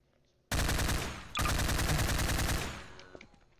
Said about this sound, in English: But you keep shooting me.